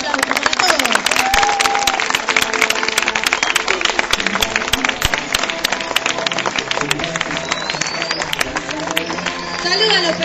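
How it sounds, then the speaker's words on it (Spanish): School event audience applauding in a loud, dense burst of clapping from a crowd, with voices and general babble mixed in throughout. "le queremos dar un fuerte aplauso, por favor, a los personajes"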